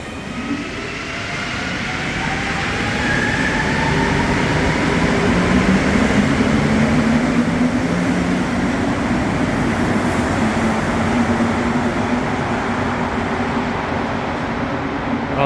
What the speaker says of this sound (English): I often film the train departing the station